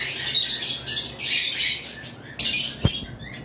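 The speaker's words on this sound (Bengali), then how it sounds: "এখানে দেখতে পাচ্ছেন এক পেয়ার লাভ বার্ড রয়েছে" Lovebirds squawk at a bird farm, with loud, close, harsh calls in several bursts and a short sharp knock near the end.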